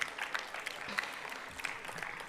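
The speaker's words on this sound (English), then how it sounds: "Kindly give her a huge round of applause." Audience at a live youth health consultation event in a hall applauds steadily, a dense patter of many hands clapping at moderate distance for a couple of seconds.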